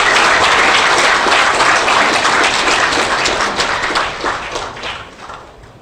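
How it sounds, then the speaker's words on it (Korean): An audience at a New Year's gathering of a civic group claps together in a loud, dense burst that holds steady, then thins and fades away over the last couple of seconds. "그 생각으로 자칭 우리 박수를 한번 칩시다."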